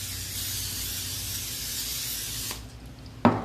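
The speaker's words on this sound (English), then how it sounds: "Spray you a dish." Cooking spray hisses from a can onto a 13 by 9 baking dish: one close, steady spray lasting about two and a half seconds, then a brief pause and a short clack as the can is set down.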